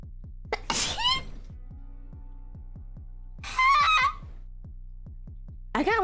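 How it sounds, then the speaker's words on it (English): A person sneezes sharply three times, the bursts spaced a few seconds apart, over a steady low background hum with faint repeated clicks. "I got an intense need to sneeze"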